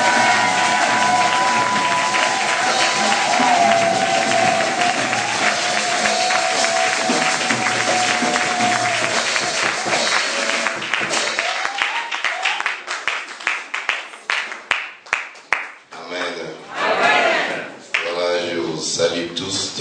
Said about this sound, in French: le prophète Ézéchiel Moulumba, nous acclamons très fort